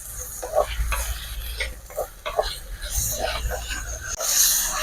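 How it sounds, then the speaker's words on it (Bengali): Spice masala with turmeric is stirred and fried in a pan for a Bengali green jackfruit curry, giving a steady sizzle broken by repeated scraping strokes of a spatula, close and fairly loud. "মশলাটা আমি ভালো করে কষে নিই"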